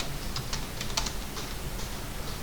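Keys on a computer keyboard being pressed for AutoCAD drafting commands, a quick run of close, light clicks over steady background hiss, with no voice.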